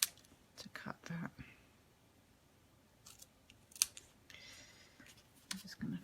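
Scissors snip through card stock for a Stampin' Up! dragonfly card, a few close, quiet cuts spread across a mostly hushed stretch with soft whispery movement between them.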